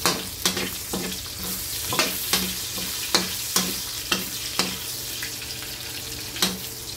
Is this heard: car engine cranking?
no